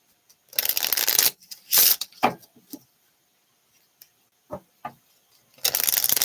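A hand-drawn deck of blank cards is shuffled up close in a series of crisp riffling bursts, then comes a scattering of soft taps and clicks and a final longer riffle.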